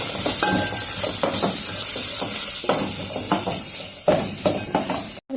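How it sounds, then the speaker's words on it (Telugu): Ginger garlic paste with a little turmeric frying in a pan for tomato rice, a loud close sizzle broken by repeated scraping stirs of a spatula against the pan. "అల్లం వెల్లుల్లి పేస్టు పచ్చి వాసన పోయేంత వరకు వేయించుకున్నాం"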